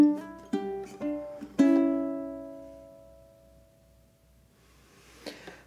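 A low G ukulele fingerpicks a short intro to a Spanish-style piece, a few plucked notes rising into a ringing chord that decays slowly, solo and close, followed by a faint rustle.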